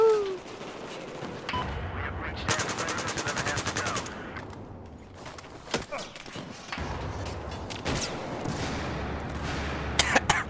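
Battlefield 4 gameplay brings repeated bursts of automatic gunfire and scattered single shots, loud and close, with thuds and a few coughs or vocal noises mixed in across the stretch.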